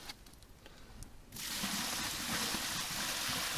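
Water poured gently from a gold prospecting pan: quiet trickles at first, then a sudden steady broadband rush of flowing water that continues to the end.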